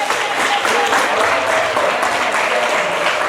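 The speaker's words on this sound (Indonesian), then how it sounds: "Sekali lagi tepuk tangan buat teman-teman semuanya di sini" Students at a junior high school entrepreneurship seminar in Purworejo break into steady, loud applause, a dense patter of many hands clapping together for a few seconds.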